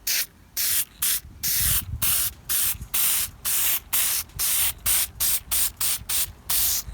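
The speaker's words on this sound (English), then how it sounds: "So I'm shaking it up really good, and I'm going to start spraying." Repeated bursts of spray adhesive hiss from an aerosol can onto thrifted chair fabric, about a dozen short blasts of varying length with brief pauses between, close and loud.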